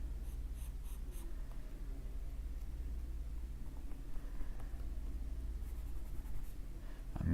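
A pencil scratching on paper in a quiet room, a faint, steady, continuous rasp with small strokes over a low background hum.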